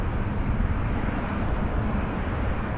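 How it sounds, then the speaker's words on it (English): A passenger airplane at Toronto Pearson airport gives a steady, loud, broadband engine roar that holds evenly throughout, with no voices. "That's just a regular plane."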